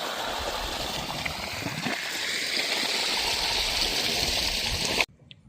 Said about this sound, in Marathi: निवांत आता सावकाश पाणी चालू आहे